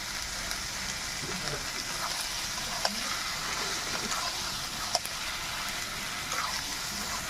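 Country rooster curry being sautéed in a pan with fried potatoes and a pinch of salt, giving a steady, close sizzle and hiss with a few faint clicks of stirring, no talking.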